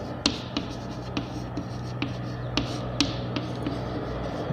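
Chalk or marker strokes on a classroom board during a Hindi-medium class 10 science lesson, a steady series of light taps and scratches roughly every half second over a low room hum, with no talking.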